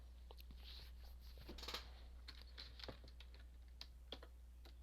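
Code being typed on a computer keyboard for a Python Flask and Jinja exercise: quiet, irregular key clicks in quick bursts and pauses over a steady low electrical hum, with no talking.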